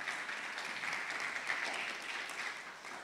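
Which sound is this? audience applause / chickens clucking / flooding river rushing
audience applause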